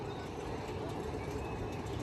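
A steady, rumbling train-like roar of the Seven Dwarfs Mine Train roller coaster running nearby at Magic Kingdom, a continuous dense noise with a faint metallic whine over it.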